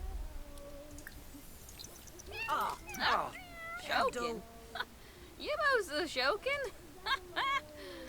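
A cat in The Sims 4 meows repeatedly in short, rising and falling calls, fairly close and clear, while people talk and laugh over the game.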